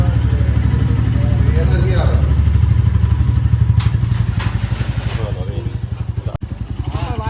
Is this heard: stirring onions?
no